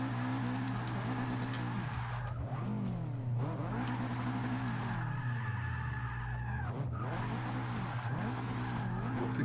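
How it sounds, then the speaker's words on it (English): Car in Forza 6 at full throttle: a loud, continuous engine drone that rises and falls with shifting revs, with tire squeal mixed in and no pauses. "I just hit full throttle and it just picks up."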